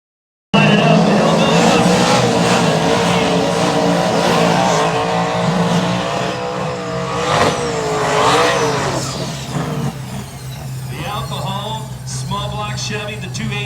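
A Chevy S10 with a 283 engine launches in a small-tire no-prep drag race, engines roaring loudly and revving under excited commentary, then fading as tires chirp and the crowd noise follows near the end.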